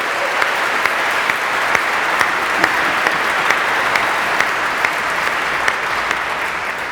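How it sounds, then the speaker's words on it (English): A church congregation at a Christmas Eve service applauds the newly retired rector, Dr. Cooper: dense, steady clapping from a large crowd that fills the whole stretch at an even level. "Let's have a big applause for the rector who's been here forever and just retired, Dr. Cooper,"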